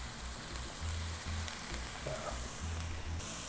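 Ground meat seasoned with taco spice sizzling in a pan while being stirred and broken into crumbles; close, steady frying hiss with repeated soft scraping strokes.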